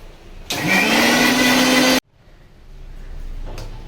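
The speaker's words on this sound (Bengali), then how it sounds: "এটা ব্লেন্ড করে নেবো।" Electric blender whirring as it blends milk with half a spoon of chia seeds, a loud steady motor roar that starts abruptly, holds for about a second and a half, then cuts off sharply, leaving quiet room noise.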